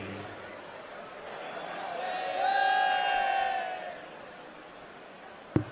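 Arena crowd at a darts match cheering and roaring, swelling to a loud peak midway before settling back into a steady murmur, with a sharp knock near the end.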